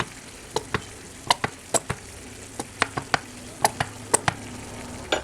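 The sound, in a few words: stirring boiling tomato sauce in a pan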